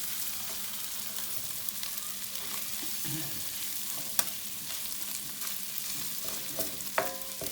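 Rice toasts in butter in a pot for maqluba, producing a steady, close sizzle with occasional sharp clinks and scrapes of a stirring utensil.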